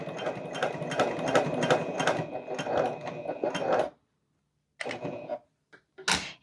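A sewing machine back stitching a seam on an oversized trapeze tote bag: a close, rapid rattling run of stitches for about four seconds, a brief silence, then two short bursts of stitching with a click at the end.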